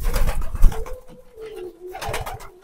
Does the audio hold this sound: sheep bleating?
no